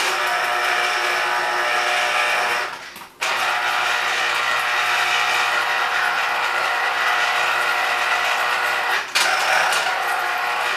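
An electric citrus juicer whirs continuously while squeezing lemons, a steady mechanical grinding drone close by that briefly cuts out twice as pressure is released and reapplied, reversing direction.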